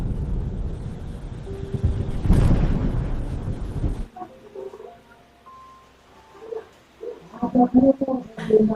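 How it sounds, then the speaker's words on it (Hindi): A wintry storm with thunder and strong, icy wind. A heavy low rumble and gusting roar build to a loud burst, then drop away sharply, followed by quieter scattered knocks and tonal sounds. "बर्फ जैसी ठंडी हवाओं के साथ तेज आंधी और तूफान चलने लगा"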